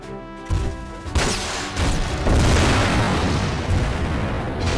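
A bazooka shot in the PS2 game Front Mission 4 destroys a sensor unit, heard as a loud booming blast with a crashing, rumbling explosion that sustains for several seconds.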